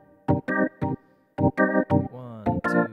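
Reggae bubble rhythm on keyboard with both hands, heard as short, clipped chord stabs in a bouncing pattern with brief gaps between groups, close and clear.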